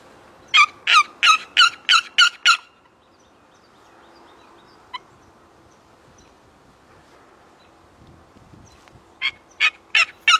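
Wild turkeys gobble in a quick burst of rapid calls, then fall quiet over faint wind before another run of gobbles near the end, during a hunt in Quebec.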